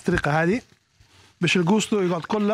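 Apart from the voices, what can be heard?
None of the usual background noises is heard.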